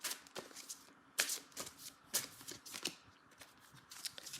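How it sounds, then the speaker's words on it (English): Oracle cards being shuffled by hand, quick riffling bursts of flicking card edges in uneven clusters, close and soft, with no one speaking. "So I'm going to start off by pulling a few oracle cards."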